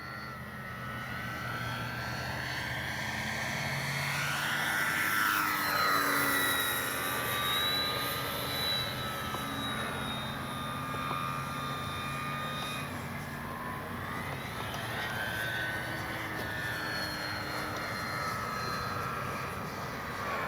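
A Dynam BF-109 RC warbird model plane flies overhead with a steady electric motor whine and propeller drone that rises and falls in pitch as it passes, making long sweeping fly-bys at a moderate distance.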